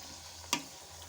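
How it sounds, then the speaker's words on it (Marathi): Puris frying in a pan of hot oil for pani puri, a faint steady sizzle with one brief, sharper crackling burst partway through. "अशा प्रकारे आपण हळूहळू तेलात सगळ्या पुऱ्या ॲड करणार आहोत आणि पुऱ्यांना बदलवत राहायचं."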